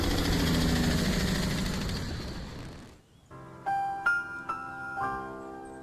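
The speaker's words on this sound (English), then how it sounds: "a jake brake is when a semi-truck uses its exhaust to slow the vehicle" A semi-truck jake brake rumbles in the distance in the video game Squad, a loud, broad roaring drone that fades over about three seconds, followed by quieter tonal sounds.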